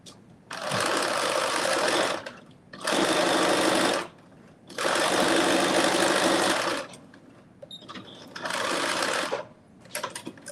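Sewing machine stay stitching the lining pieces of a Simplicity 9825 garment, running in four bursts of a few seconds each, separated by short pauses.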